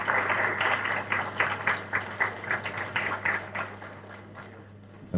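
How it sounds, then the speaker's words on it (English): Audience applause at an actuarial careers event, a steady patter of many hands clapping in a room, moderately loud, then trailing off toward the end. "We can applaud him as he receives his gift."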